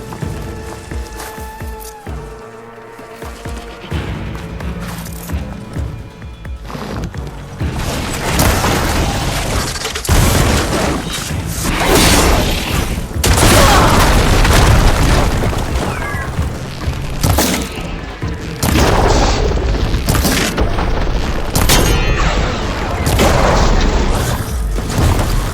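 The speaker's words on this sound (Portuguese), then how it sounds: "Explodiu." An explosion in Horizon Forbidden West: loud, dense booming and crashing builds and rolls on for many seconds, with heavy low rumble and scattered impacts in a busy game mix.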